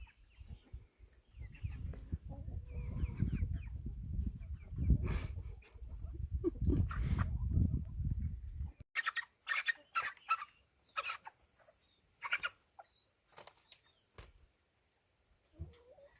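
Chickens on a farm where birds are being butchered make low clucks and rustling up close, followed by sharper intermittent squawks and calls with pauses between them.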